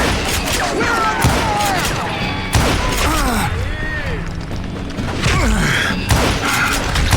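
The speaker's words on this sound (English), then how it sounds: "Who's shooting?" Gunfire in the Western shooter Call of Juarez: Gunslinger, set at a camp outside Parachute, Colorado: sharp cracking shots and thuds come in bursts around the start, middle and end, layered over game music and effects.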